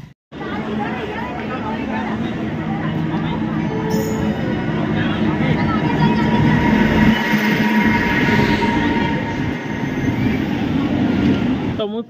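A train pulls into Sarnath railway station, a steady loud rumble of rail cars and wheels running through the whole stretch, with people talking over the noise.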